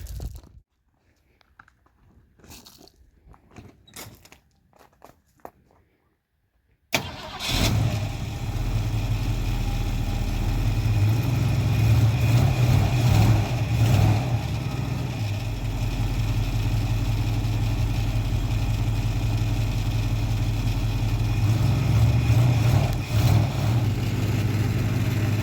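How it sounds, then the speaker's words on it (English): An old Ford Mustang engine cranks and catches, then settles into a loud, steady rumbling idle that runs on for nearly twenty seconds after some quieter handling noises at the start. "I gotta start the car."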